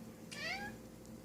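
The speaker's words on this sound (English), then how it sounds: "That's the cat saying, yes" A cat gives a single clear, moderately faint meow with a falling pitch, heard indoors against a quiet background hum and no talk.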